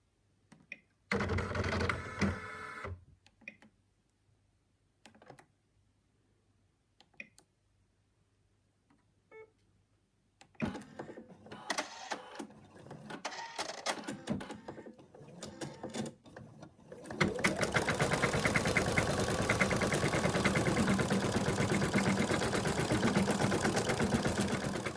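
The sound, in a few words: embroidery machine stitching outline of mouse arms, legs and tail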